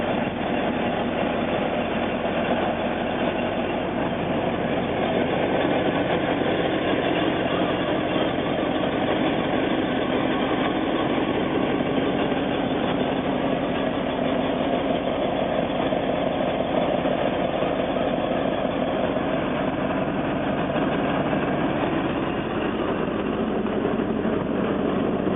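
A 1953 Chevy Bel Air engine, not run in a while, idles steadily for about 25 seconds with a constant low rumble and even loudness, and no voices over it.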